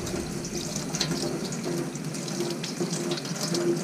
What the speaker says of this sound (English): I'm putting water through there, so when the water comes out through here, it's taking any of the gunk that's been attached to the outside